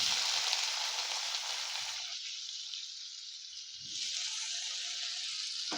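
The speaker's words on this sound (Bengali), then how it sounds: "আগে থেকে কেটে রাখা আলুগুলো দিয়ে দিচ্ছি।" Pre-cut potatoes, sliced into long strips, dropped into hot oil in a frying pan, giving a loud bright sizzle that softens and then surges again, close up with no voices.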